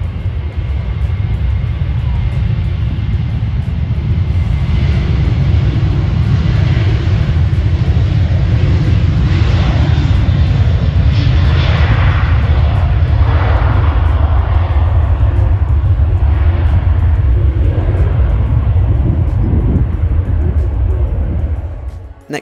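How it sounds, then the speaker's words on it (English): Ryanair Boeing 737-800 jet taxiing at Manchester Airport, a loud, sustained engine roar and whine with a deep rumble, holding steady for over twenty seconds before cutting off at the end. "The Ryanair Boeing 737-800 taxis down the runway."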